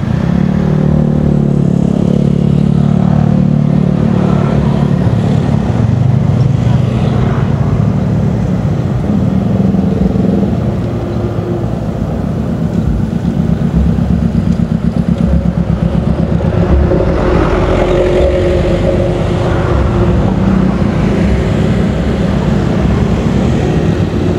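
A car passes close by on a road beside rigid concrete paving works on Gabus Raya, where geotextile has been laid on the fresh pour. Its engine gives a loud, continuous low rumble and drone that swells again near the end.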